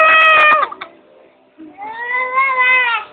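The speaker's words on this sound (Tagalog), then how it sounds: "Ayan ang pusa ko. Pusa!" A pet cat meows twice, close and loud: a short call, a brief pause, then a longer, drawn-out meow.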